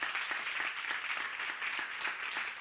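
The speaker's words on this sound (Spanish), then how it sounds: "Aplauso para ellos." Audience applause at the FP Euskadi 2021 entrepreneurship awards ceremony: a steady, dense patter of many hands clapping with no break, evenly loud throughout.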